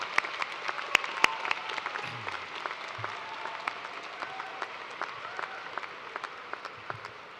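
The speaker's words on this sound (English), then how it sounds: "Graduates, please join me in giving a round of applause to these many family members, friends, and loved ones" Commencement audience at a University of Toledo spring ceremony applauding graduates' families, steady sustained clapping from a large crowd in a big hall, fairly distant and even, with a few sharper claps standing out.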